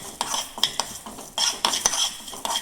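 Fenugreek and cumin seeds dry roast in a pan without oil, with irregular close scraping and clinking strokes of a spoon against the pan over a faint crackle, and no voices.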